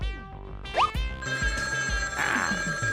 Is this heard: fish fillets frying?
no